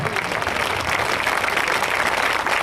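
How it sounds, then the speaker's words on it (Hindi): Loud, dense applause from a crowd at a rural mahapanchayat gathering of cow protection groups, a thick continuous burst of many hands clapping for a few seconds. "एक बार जोरदार तालियां इनके लिए।"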